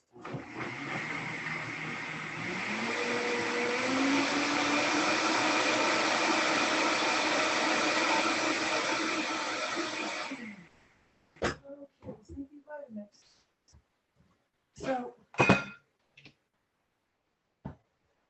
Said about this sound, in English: Let me just put it in the blender.